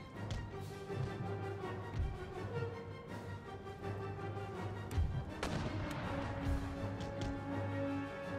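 Howitzer artillery fire in the video game Empire Total War, a steady barrage of booming reports and rumbling battle noise continuing throughout, with dense layered blasts and no clear pauses.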